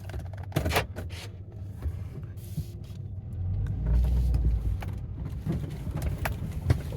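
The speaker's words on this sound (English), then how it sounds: "Sounds like a diesel. A Duramax. A stock" A stock Duramax diesel truck engine idles and rumbles steadily nearby outdoors, swelling to a heavier low growl midway, with faint clicks and knocks over the top and no talking.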